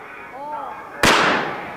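A single sharp shotgun blast at an ISSF shooting World Cup stage in New Delhi, loud and close, with a decaying tail after a quiet, tonal lead-in.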